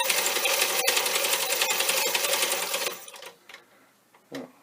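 A Keystone E38 16mm film projector runs hand-cranked with a fast, steady mechanical clatter for about three seconds, then stops, leaving faint clicks and handling noises.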